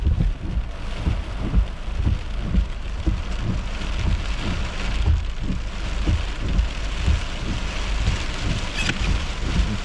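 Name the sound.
small hail falling on a car during a thunderstorm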